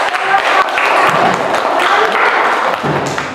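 A class applauding, a dense burst of many hands clapping up close at steady loudness, with a voice mixed in under the clapping.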